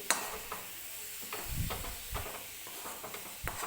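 A thick coconut barfi mixture with cardamom powder is stirred in a pan, giving soft intermittent scraping strokes over a faint sizzle, quiet and close with no voices.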